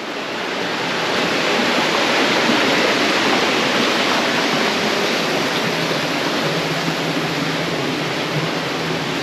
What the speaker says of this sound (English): Waterfall seems to be slowing down a bit now.